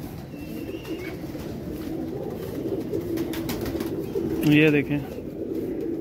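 A pigeon coos briefly near the end, a soft low burble heard close over steady background noise while someone talks in Hindi throughout.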